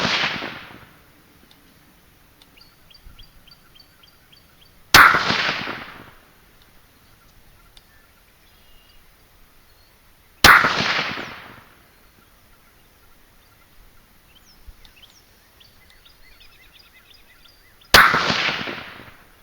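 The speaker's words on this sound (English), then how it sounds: "Been shooting a different gun, different scope, and it may take me a few rounds to get used to shooting this." A 220 Swift rifle firing 55-grain V-Max loads: four loud, sharp shots several seconds apart, each with a long echoing decay over a quiet outdoor background.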